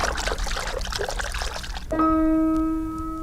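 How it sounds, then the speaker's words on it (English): Running water splashes from a faucet as hands are washed, a steady close rush that stops abruptly and gives way to a ringing, sustained chime-like bell tone. "I'll just wash my hands with running water under the faucet"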